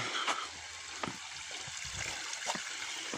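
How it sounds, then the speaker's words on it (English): Small waterfalls near a sandstone quarry, a soft continuous trickle and splash of running water, faint and even, with a few brief knocks and rustles close by. "We got little waterfalls going on."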